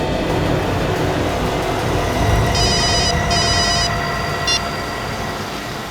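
An outgoing mobile call rings through a phone earpiece, a few short electronic ringback pulses heard faintly over loud, steady rumbling background noise.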